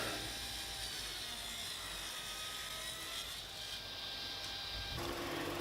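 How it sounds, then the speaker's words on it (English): A steady, high whining power saw runs continuously, cutting through walnut and maple, with a shift in pitch near the end. "And cutting them on the saw now"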